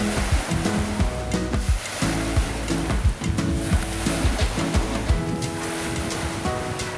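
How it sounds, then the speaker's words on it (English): Waves lapping on a lake beach at Waskesiu on an overcast afternoon, a steady broadband wash of surf with some water churn, fairly close and continuous, with no speech. "By mid-afternoon in the overcast sun, James hits the beach to go for a warm-up swim"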